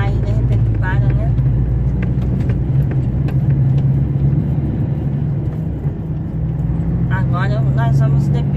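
A car drives along a road in Mato Grosso with a steady, loud low engine and road rumble heard from inside, while voices talk over it.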